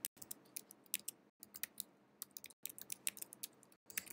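Quick, close clicks of typing on a computer keyboard come in irregular bursts of keystrokes with short pauses between them, quiet and clear with no voices.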